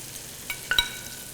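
Bacon and shallots frying in reserved oil in a pan, a quiet steady sizzle with a few soft stirring clicks and scrapes.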